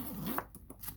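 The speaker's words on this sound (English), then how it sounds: "smooth zipper. Did you see that?" A quick zipper pull on a Coach Sabrina handbag, a short raspy zip followed by faint scratchy handling sounds, close and quiet.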